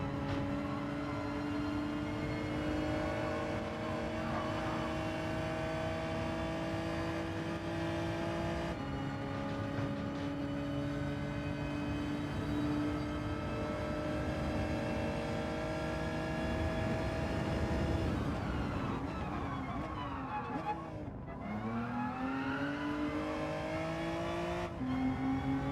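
A Lantra race car engine in Gran Turismo 7 drones loud and steady through a long pull, then dips sharply as the driver lifts off and climbs again while revving back up through the gears.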